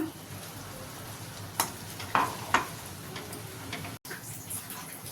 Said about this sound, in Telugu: ఇప్పుడు ఇందులో మనం మసాలా పేస్ట్ వేసుకుందాం